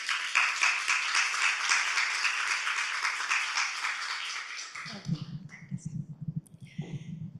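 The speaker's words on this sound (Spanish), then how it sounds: "agradecería un aplauso para ella" An audience at a literary talk claps steadily for a speaker for about five seconds, then the applause stops and a voice begins speaking close by.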